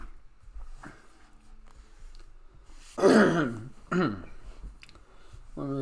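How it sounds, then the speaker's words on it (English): A voice clears its throat with a couple of short, rough bursts, separated by brief pauses, close to the microphone. "Let me clear my throat."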